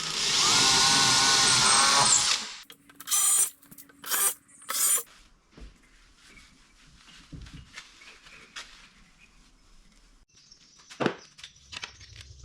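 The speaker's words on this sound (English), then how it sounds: "So I find it easier just to pre-drill them first" A power drill whines loudly for about two seconds while pre-drilling a board for a workbench, then a few short drill bursts follow amid quiet clatter and faint handling noises.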